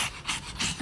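A dog pants rapidly and close by, quick rhythmic huffing breaths repeating several times in under a second, with no speech.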